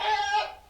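A giant chicken mob in Minecraft gives a short, nasal cluck, a single brief fowl call that is close and moderately loud.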